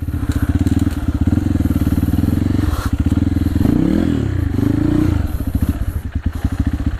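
A dirt bike engine revs loud and close in a steady throttle drone, surging and labouring as it stays stuck in place on a muddy trail, with a brief rising rev midway and no one talking.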